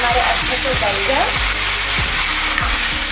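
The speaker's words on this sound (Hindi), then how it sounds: "अब हम इसके अंदर डालेंगे टमाटर और टमाटर डालने के बाद हम लोग इसको अच्छे से मिक्स करेंगे 2 मिनट तक" Tomatoes and onions fry loudly in a pan for chutney, a dense continuous sizzle broken by regular scraping strokes of a spoon as they are stirred.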